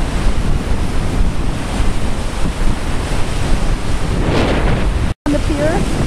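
Hurricane Sandy surf crashing against a pier in a roaring storm, with steady loud wave wash and heavy wind buffeting the microphone throughout, broken by one brief dropout near the end.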